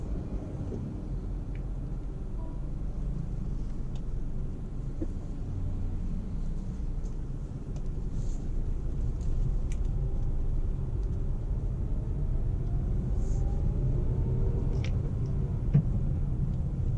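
A Renault Kiger turbo compact SUV pulls away and drives, a low steady engine and road rumble from inside the cabin, building slightly louder partway through, with no speech.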